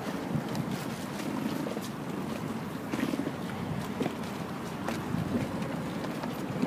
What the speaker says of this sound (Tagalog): Ano John, sakay tayo ng bangka?